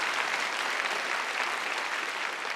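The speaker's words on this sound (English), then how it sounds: "A big round of applause for Ritual." Conference audience applauds in a steady, dense wash of clapping that holds evenly throughout at moderate loudness, with no voices over it.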